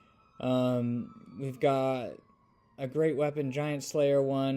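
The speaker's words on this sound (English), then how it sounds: "Excuse the sirens here." Emergency sirens wail faintly outside, a thin steady tone running beneath someone talking loudly up close during a tabletop wargame session.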